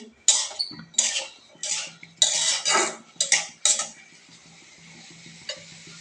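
Beans being stirred with spices in a cooking pan, the metal utensil scraping and clinking in a series of sharp, close strokes over the first four seconds, then settling into quieter, sparser stirring with a soft sizzle underneath.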